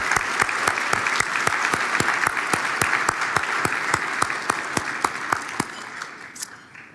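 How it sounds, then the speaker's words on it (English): Audience applause at a charity foundation gala, a full sustained clapping from a large crowd with a few sharp, distinct nearby claps standing out, gradually thinning toward the end. "I think we do have to have some applause for that family"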